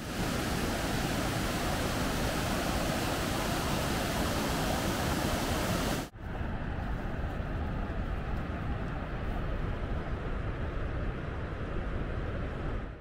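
A mountain stream in the Caucasus rushes past in a dense, constant roar close by, its broad noise running unbroken except for a brief cut midway, after which it continues slightly softer. No speech.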